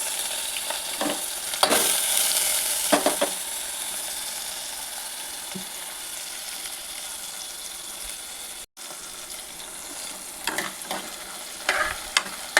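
Steady crackling sizzle of leaves frying in hot oil, with a few sharp pops and brief stirring scrapes, close and continuous throughout.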